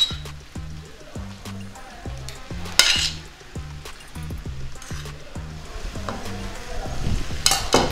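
Pasta sauce and boiled spaghetti sizzle steadily in a pan on low heat, a continuous frying hiss with occasional stirring clinks of utensil against the pan, alone without talk.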